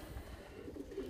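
Russian homing pigeons cooing softly, a low murmuring coo that continues through the short moment, moderately close with faint background noise.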